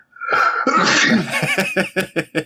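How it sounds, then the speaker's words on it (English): A long, drawn-out sneeze bursts loudly at close range, followed by a string of short, choppy breathy bursts like laughter or coughing that taper off in a quick rhythm. "That sneeze is relentless."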